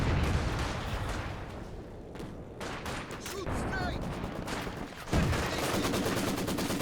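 Anti-tank gunfire from ZiS guns in the Company of Heroes 2 battle game, a dense stream of sharp shots and blasts layered over ongoing combat rumble, with a heavier impact near the end.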